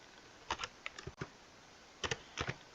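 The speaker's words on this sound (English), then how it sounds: "I'm just typing" Fast bursts of keystrokes on a computer keyboard while entering a phone number into an Excel spreadsheet, clustered in two short runs separated by a pause, close and clear with no talking.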